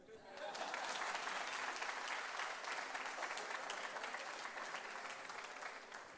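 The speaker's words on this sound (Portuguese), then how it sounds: "Palmas para mim." An audience at a church camp gathering breaks into applause, a dense, sustained wash of many hands clapping that starts abruptly and holds evenly to the end.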